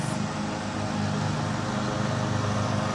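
Lawn mowers run nearby in a suburban residential neighborhood, a steady broadband engine drone with low rumble that stays continuous and fairly loud throughout, with no talk over it.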